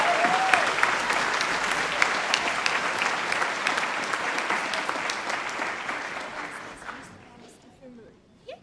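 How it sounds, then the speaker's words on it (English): Applause at a high school graduation ceremony for graduating students, a dense, steady wash of clapping from a large crowd that slowly thins and fades out toward the end. "Can we have a round of applause for these graduating students?"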